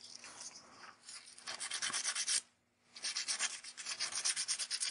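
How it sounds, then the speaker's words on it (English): Varnished watercolor paper pendant surface is lightly sanded by hand, soft rhythmic rubbing strokes in short bursts with one brief pause, close and quiet. "You don't want to sand, you just want to buff it slightly to take away some of the raised areas"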